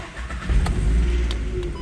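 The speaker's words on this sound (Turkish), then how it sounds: "ben de bu poloyu bir çalıştırayım" A long-unused Volkswagen Polo cranks and catches, its engine firing up close by with a short surge of rumbling revs that settle into a rough, steady idle.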